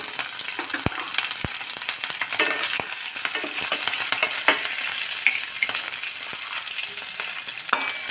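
Green chillies and dried red chillies frying in hot oil for lemon rice, a dense, bright crackling sizzle throughout with a few sharp pops and spatters, close and fairly loud, no voices.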